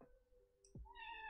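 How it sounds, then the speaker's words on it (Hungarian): A house cat gives a clear, close meow that rises into a tonal cry, after a short click and a low thump, against faint room noise. "Elnézést kérek, bolond a macska"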